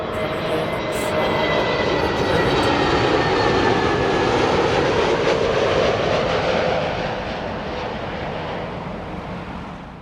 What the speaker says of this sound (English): It's the British Airways A321 Neo coming in from